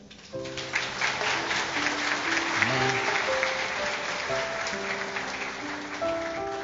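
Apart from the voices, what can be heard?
church congregation applauding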